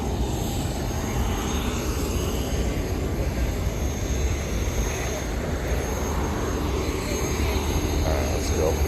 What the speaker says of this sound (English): I think one's getting ready to, a jet is getting ready to jet.